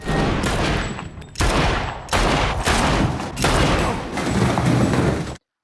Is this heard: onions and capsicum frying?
no